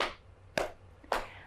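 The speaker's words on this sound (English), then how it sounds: "Clap and pat and clap and pat and clap and pat" Three sharp hand claps or pats land evenly spaced and close, as if keeping time with a children's song at a public library singalong, with no voices in between.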